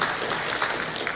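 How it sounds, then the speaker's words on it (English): Brief applause from the audience at a Fannin County Board of Education monthly meeting, a short burst of moderate clapping from a modest room of people. "Let's give them one more round of applause for their service to Fannin County"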